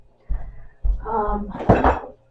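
A pot is handled while beef stew is put together for Sunday dinner, with a few close clanks and scraping knocks of cookware in quick bursts, louder toward the end.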